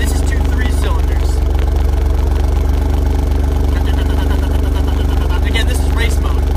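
A 2017 Alfa Romeo Giulia Quadrifoglio's twin-turbo V6, built as two three-cylinder banks joined together, idles steadily in race mode with a deep, even rumble and light mechanical clatter, loud and close throughout.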